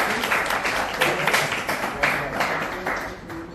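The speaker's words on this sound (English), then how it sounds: "Big round of applause, guys" Audience applause at a summer interns' farewell event, a dense wash of many hands clapping steadily and fairly close, with some voices mixed in.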